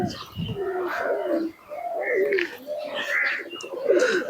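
Teddy pigeons give low, rolling coos at close range, with a few short chirps breaking in between, the calls overlapping and rising and falling over several seconds without any speech.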